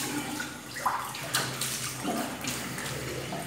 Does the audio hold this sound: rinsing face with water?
yes